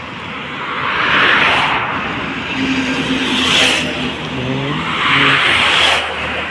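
New Massey Ferguson tractor being driven onto a large trailer for loading at Madurai, Tamil Nadu, its engine rising and falling in steady swells of revving over a broad noisy wash.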